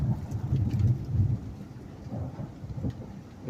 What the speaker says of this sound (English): Oh, there's the thunder.